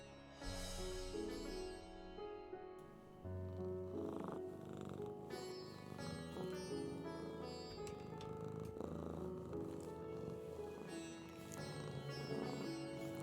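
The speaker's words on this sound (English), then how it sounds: "so you guys can listen to the purring" A pet kitten purrs at close range, a soft continuous rumble that runs steadily under a dense layer of background music and other sounds, with no talking.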